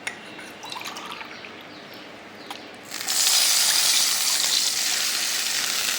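Water poured into a pan of rava (semolina) while making rava kesari: a quiet lead-in, then a sudden steady rushing pour that continues loudly to the end, with no talking.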